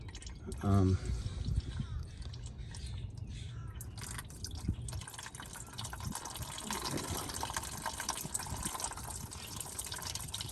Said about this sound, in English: still got some coolant drain in there. Let this drain for a minute.